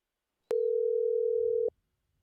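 A steady single ringback tone from a WhatsApp call rings out for just over a second, loud and clean, then cuts off abruptly with a faint low rumble of background behind it.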